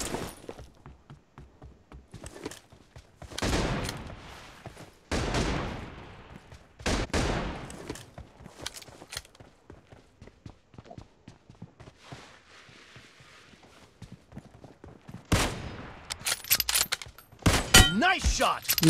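Gunfire rings out in a team-based shooting video game, with bursts of shots and sharp blasts spread across the stretch, some loud and close, others lighter, with talk now and then.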